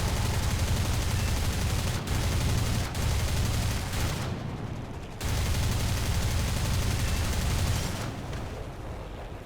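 Machine guns of an I-16 fighter plane fire in a flight combat video game, a dense, loud, continuous rattle broken by brief pauses near the middle and the end, with no talk.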